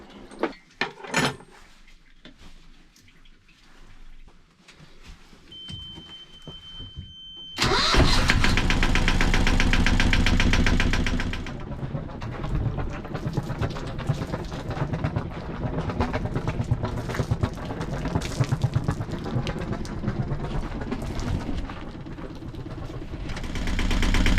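A diesel engine in an engine bay is heard over a few seconds of quiet knocks and clanks, then cranks and catches abruptly into a loud start. It settles into a steady, rumbling idle that runs to the end.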